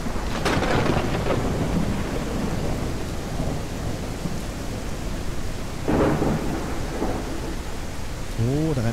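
Heavy rain pours steadily in the video game No One Survived, with loud close thunder cracks and rumbling breaking through at intervals.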